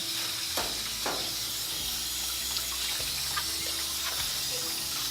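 Running water rinses soap off an English Bulldog during a bath, a steady broadband splashing and hissing stream that carries on without pause, close and fairly loud, with no one speaking.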